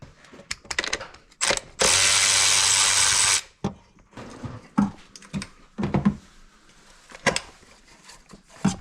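A ratchet works on the coil packs of a Honda J-series V6 engine, with quick clicking pawl strokes, a loud sustained whirring burst of spinning, then more irregular clicks and metallic knocks, close up.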